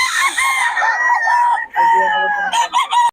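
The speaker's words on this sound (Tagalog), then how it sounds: "mga solid ang mga manok ni Boss Russell ngayon, no?" Roosters crowing loudly and close by, one long drawn-out crow followed by another, with more crowing overlapping near the end.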